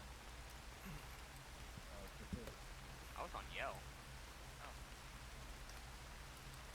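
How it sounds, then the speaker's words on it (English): Heavy rain pours in a military-style multiplayer video game as a steady, even wash of noise, while players talk quietly over it. "I think it's just raining super hard"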